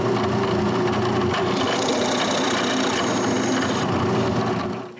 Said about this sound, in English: I drill some holes for the springs which will push on the locking pin.